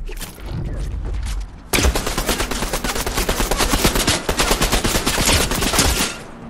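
Rapid automatic gunfire from a gun in the video game Fortnite, a quiet lead-in and then a dense, steady burst of loud shots lasting several seconds with no talk over it.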